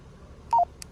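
Two short electronic keypad beeps from the menu buttons of a Baofeng BF-F8HP handheld radio, clear and close over a faint background hiss, with no talking.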